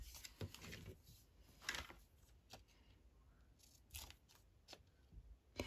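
Scissors trim paper in a handful of faint, quick snips with light rustling between them, close but very quiet.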